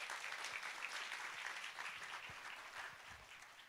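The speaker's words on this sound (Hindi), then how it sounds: "जोर से ताली बजाएंगे।" A church congregation clapping at a Sunday service, sustained bright applause from many hands, heard at a distance and fairly quiet, holding steady the whole time.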